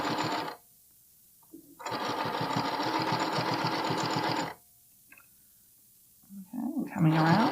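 A sewing machine stitches stretched elastic onto a bralette in two bursts, each a rapid even whir of a few seconds, separated by quiet pauses, with brief handling noises at the end.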